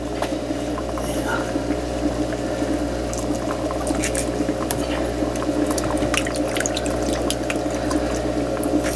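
Running water rinses dirt off lettuce roots for an indoor hydroponic setup, a steady close splash and trickle with scattered drips over a constant low hum.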